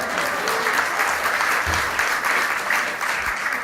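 An audience at a cruise industry sales and marketing conference applauds, a steady, dense wash of clapping that carries through the whole moment without a break.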